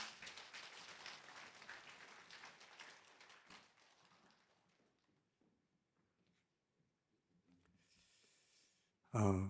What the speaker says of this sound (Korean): 고맙고 감사하고 또 수고해 달라고 박수로 모시겠습니다